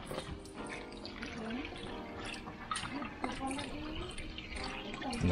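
Water from a tap runs and splashes as salted fish is rinsed in a sink, a steady trickling with small drips and clinks, fairly faint and close.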